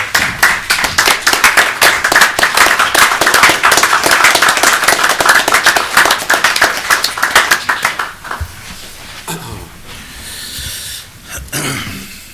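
A small room of people at a county board work session clapping, a brisk round of dense hand claps lasting about eight seconds before trailing off into scattered claps and quiet room noise.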